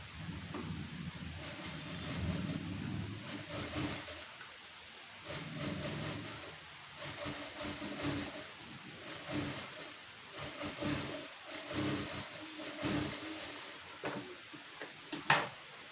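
A sewing machine stitches a blouse waistband in short, repeated runs broken by pauses, with fabric handling and occasional clicks, moderately quiet and close.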